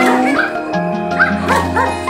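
Pomeranian puppies yip and whimper in a quick run of high, thin cries, close and fairly loud, with no one speaking.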